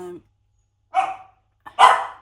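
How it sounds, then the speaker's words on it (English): A pet dog barks twice indoors, two sharp, fairly close woofs about a second apart, with a brief faint sound just before them. "I'm going to tell my dog to stop barking"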